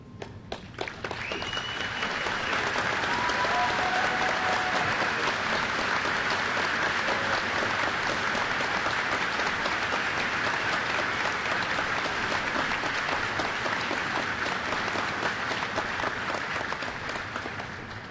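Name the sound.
applause for university faculty and staff at commencement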